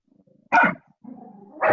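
A dog barks twice close by with a low growl between the barks, clear and loud against silence in the background of a kickboxing fitness session.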